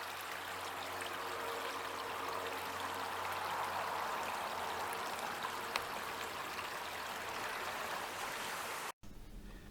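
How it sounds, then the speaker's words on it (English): The small River Tarrant flowing at Tarrant Monkton, a steady close wash of running water with gentle trickling, continuous and even until it cuts off abruptly near the end. "And here's the little River Tarrant"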